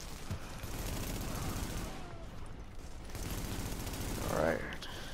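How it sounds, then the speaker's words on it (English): Rapid bursts of AK rifle fire sound in The Division video game, a quiet rattling fusillade over a constant game background, with a brighter swelling effect near the end. "I got this damn AK."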